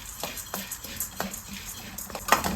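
Roasted gram stirred in a pan on the stove: soft, irregular scrapes and light clinks of a utensil against metal, faint and close, with quiet rustling of the dry gram between strokes.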